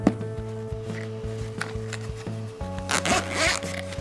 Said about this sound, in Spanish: Abrimos la cremallera